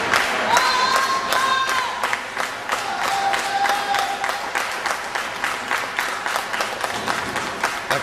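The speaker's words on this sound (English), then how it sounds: "The crowd is trying to get Shane Hollister back in this match." A pro wrestling arena crowd cheers and applauds steadily in a dense, sustained roar of clapping and shouts, with whistles rising above it and a ringside commentator talking over the noise.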